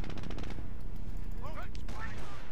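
Machine gun fire in the World War II strategy game Company of Heroes 2 rattles in a quick burst at the start, followed by layered battlefield rumble and faint whistling tones.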